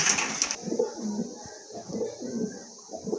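Club-kept tagged pigeons coo in low, throaty, repeated phrases close at hand, with a brief burst of noise at the start and a steady high whine running behind.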